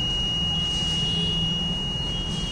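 Accident alert buzzer of a GSM modem alarm system in an accident prevention setup, a steady continuous high-pitched tone held unbroken at even loudness throughout, with a low background hum beneath.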